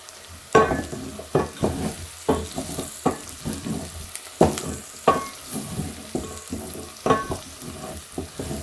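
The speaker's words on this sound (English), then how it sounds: "I'm just frying my onions with my meat together" Onions and meat fry together in a pot for a pilau, with a steady sizzle under repeated scraping and stirring strokes, close and moderately loud, with no talking.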